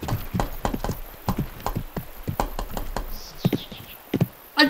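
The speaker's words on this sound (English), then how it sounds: "I don't know how I made the horse jump." Rapid clip-clop hoofbeats from a horse in the riding video game Riding Star, with the hooves striking in quick uneven runs and a brief pause near the end.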